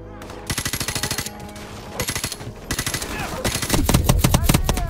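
Rapid automatic gunfire in Call of Duty Modern Warfare Remastered, several loud bursts of fast repeated shots with brief gaps, building into denser firing and explosive noise toward the end.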